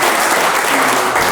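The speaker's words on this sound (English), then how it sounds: "Give a round of applause to Sybrina Fulton." An audience claps loudly and steadily in a dense burst of applause at a talk-show event, filling the whole short moment.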